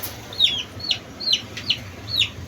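Chickens in a Filipino gamecock keeper's yard give short high chirps and clucks about every half second, five calls in a steady row, close and clear over low steady background noise with no talk.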